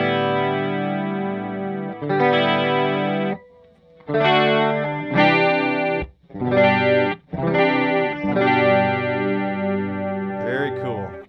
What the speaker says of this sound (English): So you can really get like almost like a tremolo.